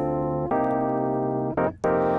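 Royalty-free music loop pitched up five semitones without time stretching plays alone, a bright, slightly sped-up phrase of sustained tones with a brief break near the end.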